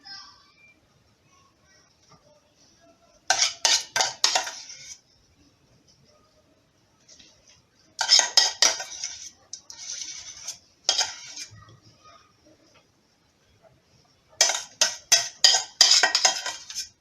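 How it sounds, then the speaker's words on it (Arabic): A metal spoon spreading lemon pastry cream over a cake, heard as three separate bursts of quick scraping and clinking against the cake and dish, close and clear, with quiet gaps between them. "نقادوها بالمعلقه باش توزع علينا مزيان."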